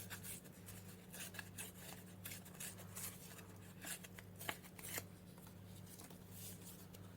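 Scissors trim paper for a mixed media art journal page, a series of soft, close snipping and rustling sounds over faint steady background hum, with no talking.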